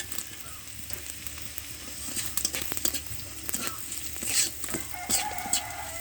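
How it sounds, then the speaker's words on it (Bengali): Panch phoron spices and onion frying in oil for a leafy greens dish, with a steady bright sizzle and occasional sharper crackles and stirring clinks, moderately loud with no voices. "পাঁচ ফোড়ন আর পেঁয়াজ ভালোভাবে ভেজে নিতে হবে"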